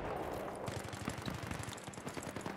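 Gunfire in the shooter Battlefield 3, a rapid burst of automatic shots that rattles steadily after a brief quieter lead-in, dense and close with no talking over it.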